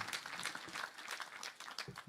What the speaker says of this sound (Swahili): Tumpigie Mheshimiwa Medho makofi tena.